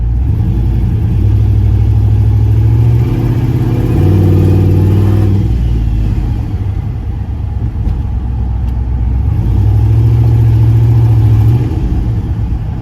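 A turbocharged LS-engined Caravan revs hard for a small burnout, a loud, deep engine roar rising and falling in pitch, easing off midway and then climbing again, heard close and with no talking.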